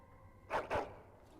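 A dog in the video game Dragon Age: Origins gives two quick, clear barks in a row, close and fairly quiet over a low background hum.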